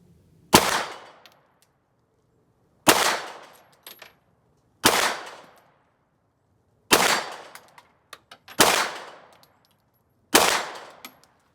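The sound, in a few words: Sig X5 pistol shots fired at 25 yards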